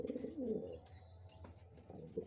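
Near a pigeon loft, a short coo opens at close range and then tapers off. Faint clicks and low rustling fill the rest.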